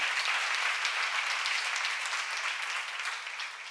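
Congregation applause during a church seminar sermon, dense continuous clapping from many hands, even and sustained throughout, filling the room with no voices over it.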